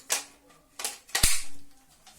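A toy military gun fires three sharp, snappy cap-like shots spaced unevenly, the last one louder with a brief thump, heard close up with no speech.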